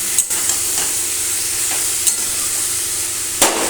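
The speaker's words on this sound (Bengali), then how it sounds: "সিদ্ধ করে রাখা ইঁচড়গুলো দিয়ে কিছুক্ষণ সময় ধরে কষিয়ে নিয়ে" Boiled young jackfruit being stir-fried in a pan, a steady close sizzle broken by a few sharp scrapes of the spatula at irregular intervals, with no voices.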